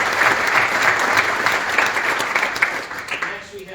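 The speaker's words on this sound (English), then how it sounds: "let's give Santiago a big round of applause for 30 years" An audience at a county commissioners court meeting gives a round of applause honoring a 30-year employee, dense steady clapping from a roomful of people that fades out near the end.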